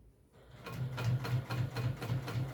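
A sewing machine stitches slowly through thick apron layers, starting after a brief pause and settling into an even, rhythmic chugging of repeated needle strokes, close and clear.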